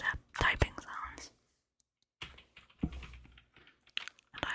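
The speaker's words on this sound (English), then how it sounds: "I just quite like typing sounds." Keys clatter on a Roccat Vulcan 121 mechanical keyboard in a short close-up burst, then a pause and more scattered keystrokes, with soft whispering mixed in among the clicks.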